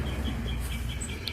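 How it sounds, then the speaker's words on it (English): Birds chirp on a tropical morning in a garden near a fruit tree. Short high tweets repeat at intervals over a low steady background hum, fairly close and moderately loud, with no talking. "Can you hear those birds tweeting?"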